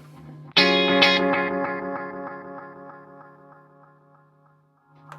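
A distorted guitar chord strikes through an analog delay pedal, followed by decaying echoes that fade gradually over several seconds, ending with a quiet pick noise.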